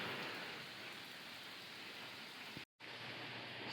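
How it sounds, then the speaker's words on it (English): Heavy rain pouring outside a workshop, a dense, steady hiss of drops on surfaces, broadband and unbroken except for a split-second cut near the end, with no voices. "Still raining like crazy out there."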